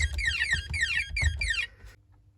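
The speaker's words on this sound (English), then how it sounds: "So remove that, it should go straight into alarm" Texecom Veritas Excel security panel in panic alarm, sounding a rapid repeating chirp of sweeping electronic tones that stops abruptly.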